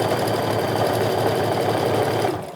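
A sewing machine runs steadily while stitching a tote bag, its fast even motor whir and needle clatter close and continuous before slowing to a stop at the end.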